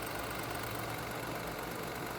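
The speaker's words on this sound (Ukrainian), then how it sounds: "Моторчик працює тихенько, рівненько, без проблем." A 2020 Ford Escape's 1.5-litre three-cylinder petrol engine idles with a steady, even drone, a dense constant hum that holds level for the whole stretch with no talk over it.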